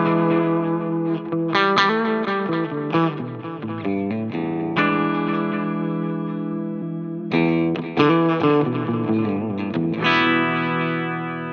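Electric guitar played through a Line 6 Metallurgy pedal's Rochester Comp effect rings out in sustained, compressed chords and note runs, loud and close, with a short pause before the playing resumes.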